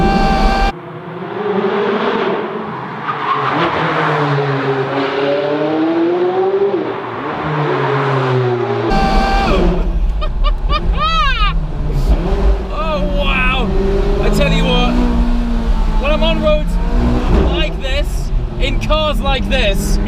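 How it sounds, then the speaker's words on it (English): A McLaren 540C sports car drives along a narrow driving road, its engine revving and rising and falling in pitch through gear changes, loud and close, with people talking over it throughout. "this beautiful 540C, which sounds fantastic"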